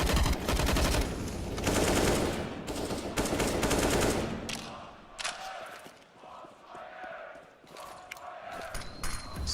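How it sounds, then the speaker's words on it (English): Rapid automatic gunfire in a Counter-Strike pro match, ENCE vs Astralis at IEM Katowice 2019, fired through smoke: dense loud bursts for the first seconds, then sparser shots and game effects, with faint commentary underneath. "Firing through smokes even."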